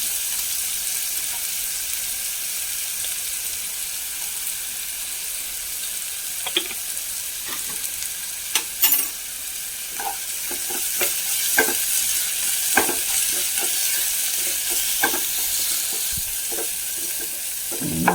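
Curry leaves and salt sizzling in hot oil in a pan while a spoon stirs and scrapes, steady frying hiss throughout with intermittent clicks and scraping, no talking, for a ragi vermicelli upma.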